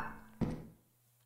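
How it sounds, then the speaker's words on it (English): A single dull knock in the video game Lethal Company, a short muffled thud against a quiet, humming background with nothing else following it. "Do you hear that knocking sound?"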